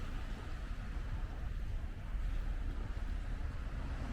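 Waves at Fisherman's Beach in Swampscott wash in as a continuous low rumble of surf, mixed with heavy wind buffeting on the microphone and no talk.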